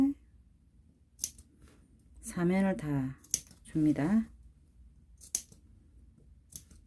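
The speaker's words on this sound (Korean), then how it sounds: "질밥이 터지지 않도록 바이어스감 여기에 가위집을 이렇게" Sharp scissors snip notches into fabric bias binding along the rounded edge of a bathroom mat, a few quick separate cuts spread through the clip, with a person speaking in the middle.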